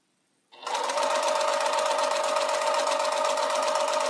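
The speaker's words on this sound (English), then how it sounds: "just let that machine pull that through" A sewing machine runs steadily at full speed, stitching a seam on a quilt block in one continuous close, loud mechanical whir after a brief silent start.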